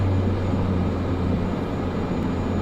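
Cessna 208 turboprop on a rough landing approach, flaps full: a constant, loud engine drone with a strong low hum and broadband roar, steady throughout.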